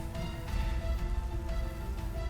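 Steady rain in Pokémon Scarlet and Violet hisses continuously, with a soft tonal background hum underneath and no voices.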